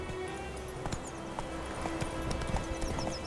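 Roach, the horse in The Witcher 3 video game, moves along with rhythmic clip-clop hoofbeats, moderately close and steady, with faint background ambience and no talking.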